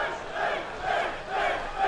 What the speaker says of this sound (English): the Des Moines crowd, is firmly behind Finn Balor with the Finn chants